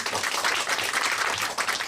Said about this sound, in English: Let's give Amy another round of applause.